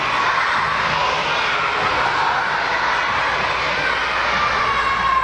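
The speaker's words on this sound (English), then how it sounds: "With screams of excitement, laughter, and applause" Students scream with excitement, laugh and applaud together, forming a loud, constant wash of crowd noise with no quiet gaps.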